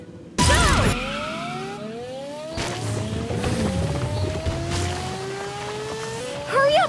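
Cartoon racing vehicles from the Paw Patrol Rescue World video game speed along with rising and falling whooshing engine tones and repeated pitch sweeps, steady and loud throughout, ending with a short burst.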